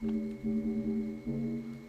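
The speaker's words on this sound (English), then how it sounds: "And here is the solo of the reverb." A soloed reverb channel from an electronic track remake, a quiet, sustained tonal wash pulsing in short swells with no voices.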